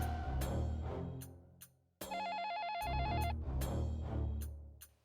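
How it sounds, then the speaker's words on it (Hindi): A telephone rings during a Hindi TV drama scene, heard as one short burst of trilling electronic ringing set between stretches of background music. "मैं अभी समर के ऑफिस में फोन करती हूँ"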